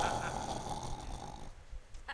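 A man imitates snoring with his voice, a rough, rasping drawn-out snore held for about a second and a half before it breaks off, close and fairly loud, with a quieter breathy tail.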